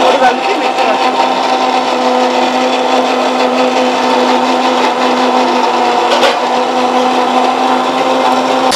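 Electric kitchen mixer grinding green chilies, salt and peanuts into chutney, a loud steady whirring drone that holds unbroken for the whole stretch with no pauses.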